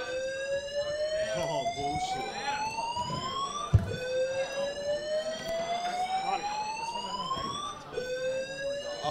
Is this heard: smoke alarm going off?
yes